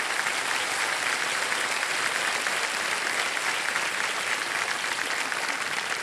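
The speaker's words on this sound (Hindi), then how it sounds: "तालियां बजती रहे देवी संध्या।" Sustained studio audience applause on a Hindi TV quiz show set, dense and steady clapping that fills the whole stretch at an even loudness with no voices over it.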